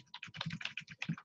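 Quick keystrokes on a computer keyboard while entering an account name during Chromebox setup, a close, brisk run of light clicks in uneven rhythm, alone and fairly quiet.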